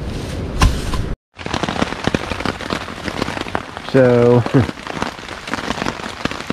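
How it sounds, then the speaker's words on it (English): Heavy rain pours down at a fall camping and backpacking rendezvous, drumming loudly and continuously on nearby surfaces with sharp drop impacts, while a person briefly speaks over it. "It's actually downpouring."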